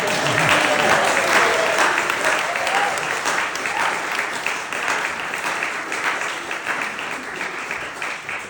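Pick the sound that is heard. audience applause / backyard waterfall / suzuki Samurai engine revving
audience applause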